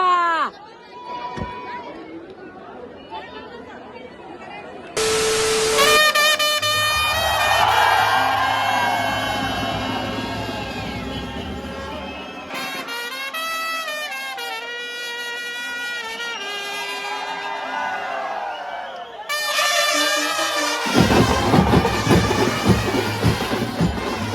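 A large crowd of devotees packs the Lalbaugcha Raja Ganesh pandal at Lalbaug, giving a dense, loud wash of chatter and shouting with music and tonal announcements rising and falling through it, nearby and continuous.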